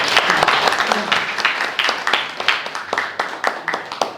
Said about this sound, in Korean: 감사와 또 축하의 박수 한번 보내드립니다